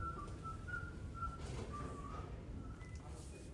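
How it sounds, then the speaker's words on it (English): Someone whistles a wandering tune in a school hallway, the thin melody fairly faint over a steady background rumble of the building. "I can hear faded pianos and whistled tunes as I walk the halls"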